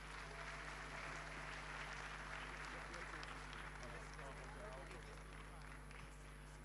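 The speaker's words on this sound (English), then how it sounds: "A round of applause for them as they come." A crowd applauds arriving dignitaries at a national launch ceremony for the Cedi's 60th anniversary in Ghana, a sustained, dense wash of clapping heard at a distance over a steady low hum.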